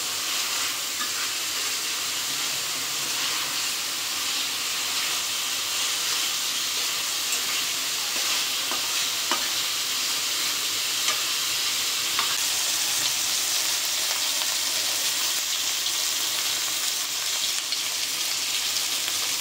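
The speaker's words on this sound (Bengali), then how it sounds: "একে একে সবগুলো কই মাছ দিয়ে দিলাম। এখন একটু উল্টায় পাল্টায় মশলার সাথে কষাই নেব।" Koi fish stir-frying with spices in hot oil in a pan give a loud, continuous sizzle and hiss that stays steady throughout, with no talking.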